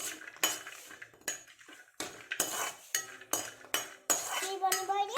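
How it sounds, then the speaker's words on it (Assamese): Raisins being fried and stirred in a wok, repeated metal spatula scrapes and clinks against the pan in uneven strokes over a faint sizzle, close by. "খিচমিচ দিছে আৰু এতিয়া ভাজিছে কেৰাহীত।"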